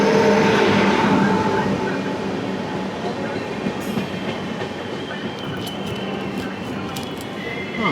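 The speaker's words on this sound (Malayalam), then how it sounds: "ലോക്മാന്യ തിലക് ടെർമിനസിൽ നിന്ന് കൊച്ചുവേളി തിരുവനന്തപുരം നോർത്തിലേക്കുള്ള ഗരീബ് രഥ് എക്സ്പ്രസ് ആണ് കയറി വരുന്നത്" A Garib Rath Express from Lokmanya Tilak Terminus to Kochuveli rolls into a station with a loud, steady rumble of wheels and carriages, a sustained roar that eases slightly, with faint high squeals near the end.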